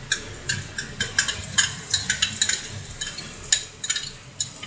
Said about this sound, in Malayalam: ഇഞ്ചിയും വെളുത്തുള്ളും കൂടി നന്നായി ഒന്ന് വഴറ്റുക